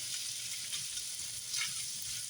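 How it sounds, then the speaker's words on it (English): Corn, carrots and onion frying in a pan with a soft, steady hissing sizzle, faint and even throughout, with no voices. "So I'm just using raw corn, raw carrots. Let that cook for a few minutes. I'm gonna add the onion."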